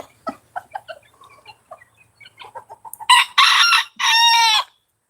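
Chickens cluck softly in quick scattered bursts nearby, then a rooster crows loudly and close, two long drawn-out calls that ring above the flock.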